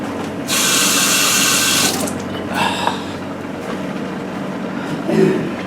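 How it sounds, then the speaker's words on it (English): Tap water runs steadily into a sink for about a second and a half as hands are washed under it, then stops, followed by quieter handling noises and a soft splash near the end. "Let me clean my hands."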